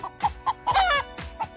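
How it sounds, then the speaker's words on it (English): A rooster clucks close by in a run of short, agitated calls, several quick clucks with a longer rising squawk in the middle, loud and alone. "Rooster's not happy."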